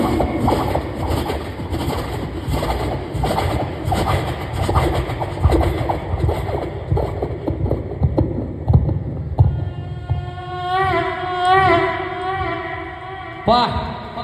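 A stage comedy performer's voice imitates a train speeding at 200 km/h and crashing: fast rhythmic clattering builds, then shrill whistle-like screeches and a final burst.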